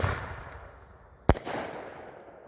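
A Black Cat silver artillery shell firework bursts once with a sharp, loud crack, trailing into a crackling, hissing fallout over steady outdoor background noise.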